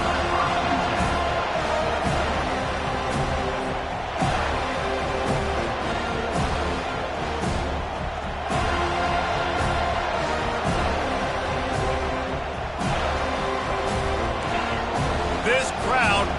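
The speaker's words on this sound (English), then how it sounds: "This crowd bringing an ear-splitting welcome to their visitors." A football stadium crowd roars loudly and continuously, a dense wall of cheering beneath a commentator talking throughout.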